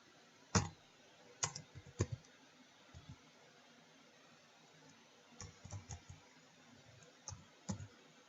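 Someone types on a computer keyboard in short, quiet bursts of clicks separated by pauses, with a few sharper keystrokes standing out close by.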